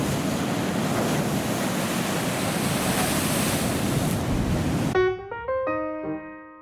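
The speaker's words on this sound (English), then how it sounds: "One last look at the waves pounding the coastline." Ocean waves pound the rocky Oregon coastline near Thors Well, making a steady, loud roar of surf and spray that fills the scene. After a few seconds it gives way abruptly to a short run of plucked musical notes.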